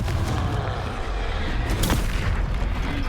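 Confringo explosive spell blast in the Hogwarts Legacy video game, a dense, loud, rumbling boom that fills the whole moment with a brief sharper crack partway through.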